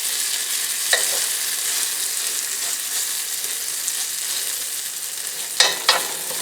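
A zucchini mixture fries in bacon grease in a pan with a constant bright, hissing sizzle. Two brief utensil clicks are heard near the start and near the end.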